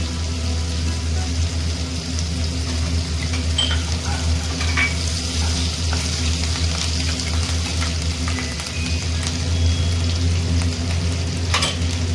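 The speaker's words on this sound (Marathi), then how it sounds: "हिरवी मिरची टाकते" Green chillies sizzling in hot oil with ginger-garlic paste for ragda puri, a steady close frying hiss with occasional stirring scrapes and clinks throughout.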